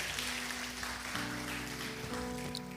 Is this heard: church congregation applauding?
yes